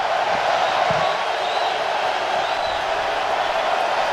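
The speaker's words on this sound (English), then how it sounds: "And this crowd responding to the return to pro football here in St. Louis." A steady wash of stadium crowd noise fills a pro football game in St. Louis, broad and continuous with faint cheering swells, heard throughout without any talk.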